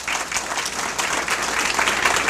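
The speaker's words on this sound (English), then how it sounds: "please give them a round of applause" Steady applause from an audience at an American Legion service awards banquet, honoring officers' family members, dense and continuous clapping throughout without pause.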